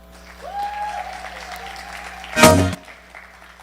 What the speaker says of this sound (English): So let's give a hand of applause for all these beautiful ladies